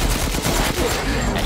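Rapid, dense gunfire from a firefight in the survival horror game Resident Evil Village, a loud continuous burst of shots lasting the whole moment.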